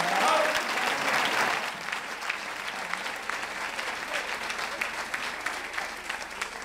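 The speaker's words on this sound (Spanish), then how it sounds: "con un fuerte aplauso darle las gracias al grupo de La Cubana" A town festival crowd applauds a performing group, with a fairly soft, sustained wave of clapping that starts a little fuller and then settles into a steady patter with faint crowd murmur.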